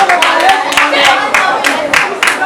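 Children and parents at a children's day party clap in quick bursts of sharp hand claps, loud and close, with voices mixed in between.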